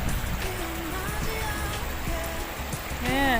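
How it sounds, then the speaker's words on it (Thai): A strong forest stream rushes steadily in a dense, continuous wash of flowing water, close and fairly loud, with no one talking. "น้ำดังมากๆเลยนะคะ ไหลแรงมาก"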